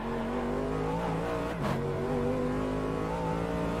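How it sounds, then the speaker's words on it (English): Steady, loud engine drone of an AMG Mercedes GT3 race car in the sim racing game Automobilista 2, holding a sustained high rev with a brief dip and swell partway through and no talk over it. "So we're in Automobilista 2 again in the AMG Mercedes GT3 car."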